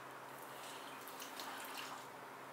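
Milk poured into a meatball mixture of ground meat and panko, a soft steady liquid trickle and splash heard up close, continuous and fairly quiet, with no talking.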